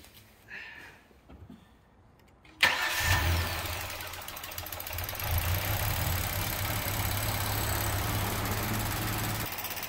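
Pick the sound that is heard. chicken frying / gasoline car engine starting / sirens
gasoline car engine starting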